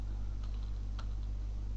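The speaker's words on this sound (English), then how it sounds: "you can just type cmd" A handful of faint, quick keystrokes on a computer keyboard type a short command on a Windows machine, set against a low, steady electrical hum in a quiet room.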